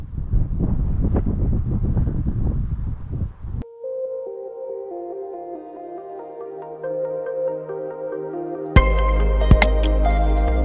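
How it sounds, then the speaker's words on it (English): Wind buffets the microphone at Newcastle Airport with a low, gusty rumble for a few seconds, then tonal sounds take over before another loud blast of rumbling noise. "the weather's windy"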